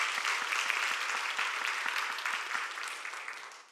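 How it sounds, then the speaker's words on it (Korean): Church congregation applauding together at an Easter Sunday service, a dense, sustained wash of clapping that stays steady and loud before easing slightly toward the end. "우리 하나님 앞에 다시 한번 영광의 박수 올려드릴까요?"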